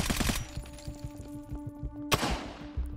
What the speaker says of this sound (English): And he's trying to shoot me.